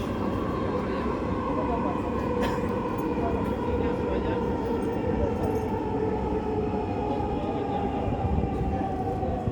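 A metro train running toward Uttara Center station hums and rumbles steadily from inside the carriage, a continuous even drone throughout.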